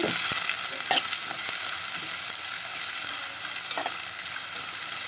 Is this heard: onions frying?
yes